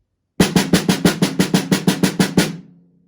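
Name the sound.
snare drum passage played without accents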